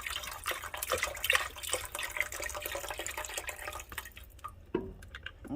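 A full 32-ounce carton of liquid, likely broth, is poured into a soup pot for a copycat Zuppa Toscana, making a steady splashing, gurgling stream for several seconds that thins into a few drips at the end.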